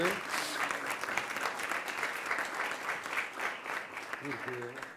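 An audience at a talk in Belém Palace applauds with dense, continuous clapping from many hands, steady and fairly soft, with a few voices faintly audible beneath.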